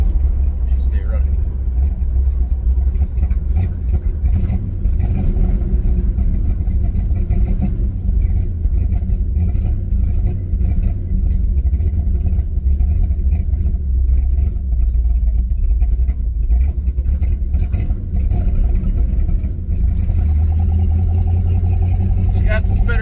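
A van with a Buick 350 engine runs rough, its steady low rumble loud and continuous with uneven sputters and stumbles throughout, sounding close by while a person talks over it.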